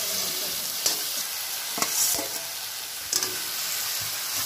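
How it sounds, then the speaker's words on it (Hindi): Fried brinjal for bhata bharta tipped into sizzling masala in a pan, a steady frying hiss with three sharper crackling bursts as the pieces go in and get stirred. "अब हम इसमें डालते हैं हमारा फ्राई किया हुआ भाटे को"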